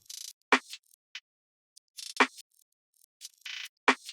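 A percussion loop sample from the Only Ones Percussion and Loop Kit plays alone, with crisp clicky hits and short noisy bursts repeating in a pattern roughly every one and a half seconds, with no voices.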